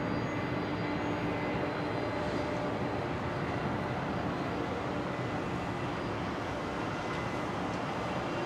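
Virgin Australia Boeing 737 Max 8 airliner rolling for takeoff at Brisbane International Airport, a steady jet engine roar heard at a distance, moderately loud and continuous with no voices over it.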